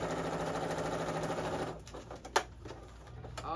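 Sewing machine back stitching fabric for the pants of a child's romper, whirring steadily at close range before stopping, then followed by a few faint clicks and handling noises.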